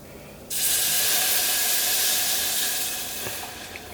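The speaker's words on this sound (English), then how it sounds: "you can start adding the milk" Milk hits a hot butter-and-flour roux for béchamel with a sudden loud, steamy hiss that holds steady for a few seconds, then eases slightly as it settles, close and without speech.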